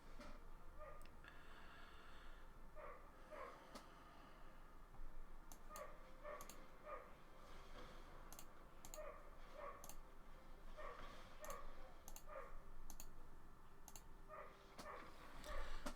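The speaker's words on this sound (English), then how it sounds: "I've got dogs barking outside like they've never barked in their entire lives" Dogs bark repeatedly outdoors in short clustered bursts, faint and distant beneath a steady wash of background noise, with no talking.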